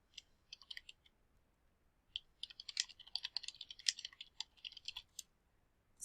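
A computer keyboard typed on in quick, uneven bursts of light clicking keystrokes, close and fairly quiet, with no voices.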